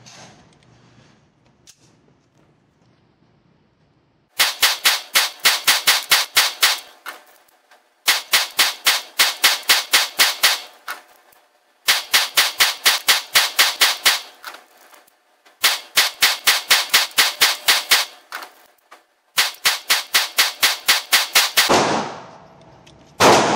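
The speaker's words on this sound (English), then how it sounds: "today we're shooting Winchester white box 115 grain" Walther PPQ SC pistol firing Winchester white box 115 grain rounds, five rapid strings of sharp, loud shots, each string about a dozen reports in quick succession, separated by short pauses, no talking.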